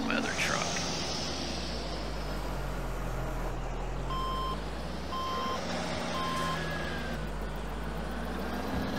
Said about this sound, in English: here comes my other truck